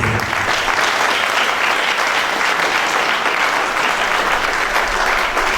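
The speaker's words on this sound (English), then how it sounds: "Please keep clapping for me." A lecture-hall audience at a university research talk claps loudly and continuously, a dense, sustained wash of applause with no talking over it.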